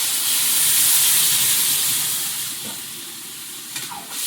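Water poured into a hot frying pan of fried food hisses into a loud, close burst of steam and sizzle that slowly fades, with a few faint clinks near the end.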